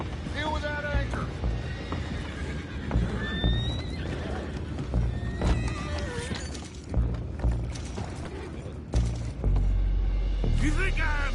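Horses whinny repeatedly amid clattering hooves, crashes and a busy, loud soundscape with voices mixed in, in the video game Red Dead Redemption 2.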